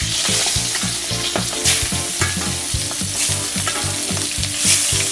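A salmon fillet frying in a pan, a loud, continuous close sizzle and crackle with a rhythmic pulsing pattern and no talk.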